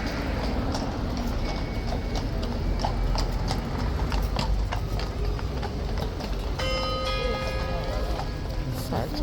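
Lifeguard horses' hooves clip-clop steadily on hard ground, several animals passing amid a murmuring outdoor crowd.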